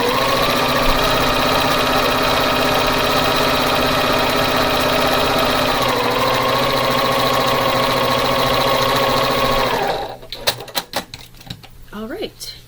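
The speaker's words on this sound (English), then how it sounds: "Flip it around, sew a 1/4 inch on the other side." A sewing machine runs steadily, stitching a quarter-inch seam on a quilt block with a loud, continuous whirring drone that holds for about ten seconds before stopping, followed by handling noises.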